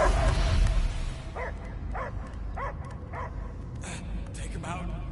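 A dog barking and yipping inside the Guardians of the Galaxy video game, a series of short, evenly spaced yelps at medium distance over a dense rumbling game soundscape.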